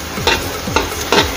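Three ingredients, garlic among them, sautéing in a pan for mussels cooked with Sprite, a loud close sizzle broken by three evenly spaced scrapes of a spatula.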